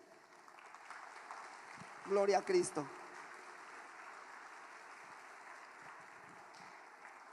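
A church congregation breaks into applause, rising over a low steady background and fading after a couple of seconds, with a voice speaking in Spanish over it.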